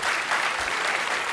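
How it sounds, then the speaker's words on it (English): An audience applauds steadily at a speaker series event, a dense, even clapping from a crowd through the whole short stretch. "can we have a great round of applause for Dale Dougherty?"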